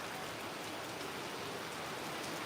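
Heavy unseasonal rain falls in Virar as a steady, dense hiss of downpour, even and continuous throughout, with no voices.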